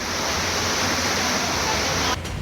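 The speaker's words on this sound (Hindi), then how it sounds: "उफान पर नदी की लहरें" A surging flood river roars with a dense, continuous rush of churning water, loud and unbroken, before dropping off abruptly just before the end.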